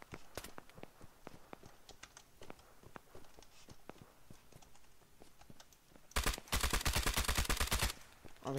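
Gunfire in the realistic video game Operation: Harsh Doorstop, with sharp single shots cracking at irregular intervals for several seconds, then a loud rapid burst of automatic fire near the end.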